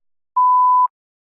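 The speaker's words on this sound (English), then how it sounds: "You may begin to prepare your response after the beep." One clean electronic tone sounds alone for about half a second, signalling the start of preparation time in a spoken test, steady and mid-pitched with silence before and after.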